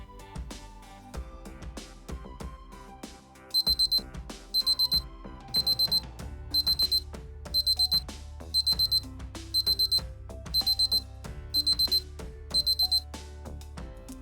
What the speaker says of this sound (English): So the alarm lasts for 10 seconds and then stops.